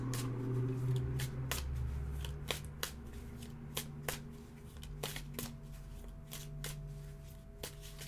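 Playing cards shuffled and dealt during a magic trick, giving a run of sharp snapping riffles and flicks spread across the stretch over a low steady background hum, close and fairly quiet.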